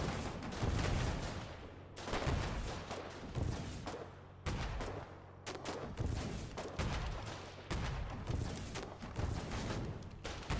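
Volleys of rifle fire in the war game Foxhole, several loud, dense clusters of gunshots separated by brief gaps, with echoing booms across the battlefield.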